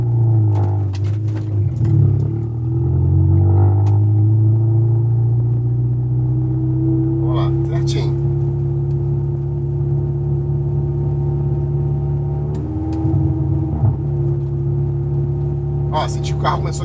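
A Ford Escort with a Zetec engine runs during injection map tuning, its steady engine drone climbing in pitch as it accelerates, with brief clicks and a voice speaking near the middle and end.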